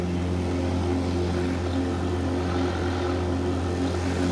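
A Just Flight PA28 Archer III single-engine propeller plane drones steadily in the X-Plane 12 simulator, a constant, close, humming engine tone with no change in pitch.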